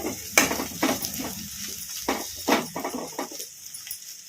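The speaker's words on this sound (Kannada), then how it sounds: "ಮುಚ್ಚಳ ತೆಗೆದು ನೋಡೋಣ ಚೌಳಿಕಾಯಿ ಚೆನ್ನಾಗಿ ಫ್ರೈ ಆಗಿದ್ದಾವೆ" Cluster beans fry with green chili in a pan once the lid comes off, giving a steady close sizzle broken by repeated spatula scrapes and clinks against the metal, with no voices.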